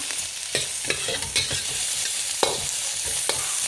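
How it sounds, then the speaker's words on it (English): Stirring hibachi fried rice seasoned with garlic powder and pepper in a hot wok: a steady sizzle with a series of sharp spatula scrapes and clacks against the metal, close and fairly loud. "Now we gotta just stir these up."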